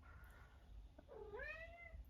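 A house cat gives a single clear rising-then-falling meow near the microphone, standing out alone against a faint low background hum.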